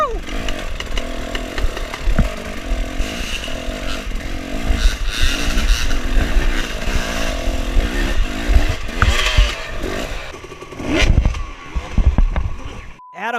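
Dirt bike engines rev and rise and fall in pitch on a trail at the Tennessee Knockout hard enduro race. Several bikes are close and loud, with throttle bursts overlapping throughout before the sound cuts off abruptly.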